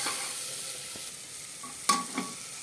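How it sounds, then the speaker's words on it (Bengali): Potatoes with turmeric, chili powder and salt are stirred in a pan over a soft, steady sizzle, with a couple of sharper scraping strokes near the end. "দেখো আমি সব মশলা আলুটা দিয়ে নাড়ছি"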